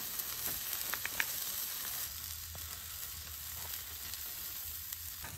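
Food searing on an outdoor camping griddle, a steady low hiss and sizzle with a few light scrapes and taps early on, fairly quiet and without talk.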